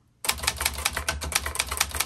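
Keys strike rapidly on a 1960s Remington 333 Ultra Portable travel typewriter, a brisk run of sharp mechanical clacks after a short quiet lead-in, close and fairly loud with no talking.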